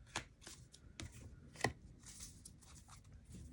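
Tarot cards are shuffled nearby, with soft papery riffles and sharp slaps in uneven bursts, quiet overall with brief louder snaps.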